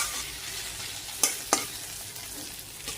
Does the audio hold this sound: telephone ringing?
no